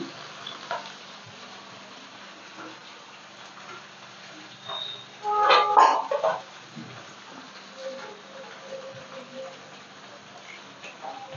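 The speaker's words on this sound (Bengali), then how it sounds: "একটু কড়া করে ভেজে নেব" Hilsa fish pieces fry in oil in a pan with a soft, steady sizzle. A louder burst of clatter and spitting comes around the middle.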